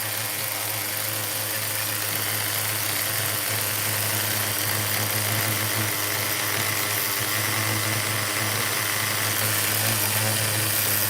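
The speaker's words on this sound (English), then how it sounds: "the motor runs perfect. You can't kill it, guys." A vintage HPI nitro RC car's T3.0 engine runs loud and close at a steady high-pitched buzz, holding an even idle-like drone with slight fluctuations throughout.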